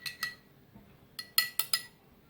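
A spoon stirs Coca-Cola mixed with other ingredients in a glass, giving a few light, quick clinks in two short clusters, quiet and close.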